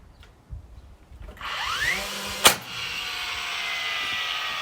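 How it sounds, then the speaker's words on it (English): A single sharp pneumatic bang of a nail gun firing a nail into hip roof framing, loud and close, followed by a steady hiss of background noise. "I'm going to use a nail gun, so sorry about the noise."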